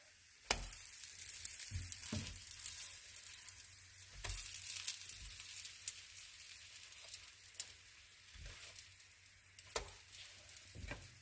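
American pancakes sizzle softly in a pan after flipping, a quiet, steady frying hiss broken by several light taps and clicks of a utensil against the pan.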